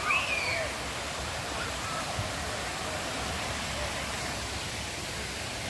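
The Ang Phak Nam waterfall flows with a constant, broad rushing hiss of falling water, steady and unbroken, heard from a moderate distance.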